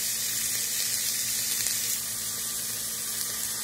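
Oil sizzling in a pan as meat lightly browns for stroganoff, a steady close crackling hiss running unbroken throughout with no talk.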